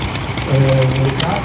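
A small tractor's engine running during a village parade in Wilkowice gives a short, steady low chug, heard beneath people talking.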